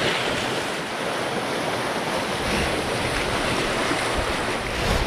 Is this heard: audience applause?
no